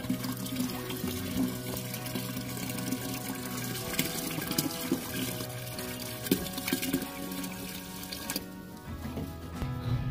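Water pours steadily into a plastic drum being filled for a homemade water heater, a continuous splashing rush that runs for about ten seconds at moderate level, with no speech.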